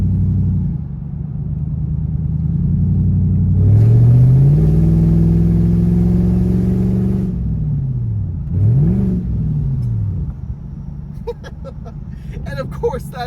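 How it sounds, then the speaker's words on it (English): The V8 engine of an old, beat-up luxury project car rumbles close by, revving up to a sustained roar, easing off, then giving a quick blip before settling to idle, with a person talking over the end. "I love the sound of this V8."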